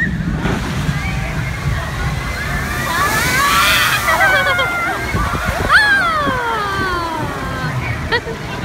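Water crashes and sloshes over riders on a Thorpe Park water ride, a loud sustained splash and rush with shrieks and chatter from passengers mixed throughout.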